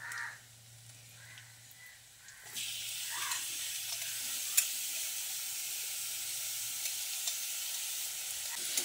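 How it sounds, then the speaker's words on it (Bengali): Grated beetroot frying with onion in a pan, a steady broadband sizzle that swells loudly a couple of seconds in as the beet goes into the hot fat, then holds, with a few soft scrapes and no talk. "ফোড়ন বেশ কিছুক্ষণ ভেজে নেওয়ার পর এবার এর মধ্যে গ্রেট করে নেওয়া বিটটা দিয়ে দিচ্ছি।"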